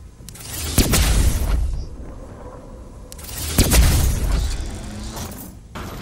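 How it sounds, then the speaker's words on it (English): A fire-spewing weapon in Call of Duty Zombies lets off two loud, roaring blasts a few seconds apart. Each one swells and then trails off into a rumbling hiss. "Unleashes a fiery blast that, well, it pretty much just fights fire with fire."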